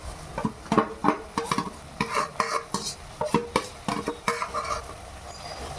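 Ginger garlic paste stirred and frying in hot oil with softened onions for mutton biryani, a spoon scraping the pan in repeated close strokes over a steady sizzle.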